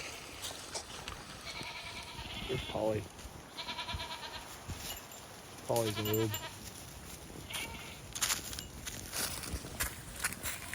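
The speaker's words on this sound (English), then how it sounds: "goats." Goats on a ranch bleating several times close by, short wavering calls spaced a few seconds apart, with a person talking between them.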